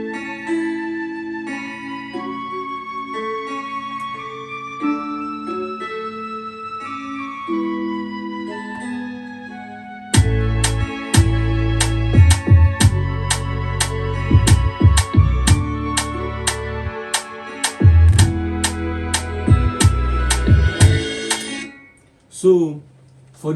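A song intro opening on soft piano, guitar melody and flute, then at about ten seconds bass, punchy drums and violin join in with a steady driving beat, ending on a brief pause and a final hit.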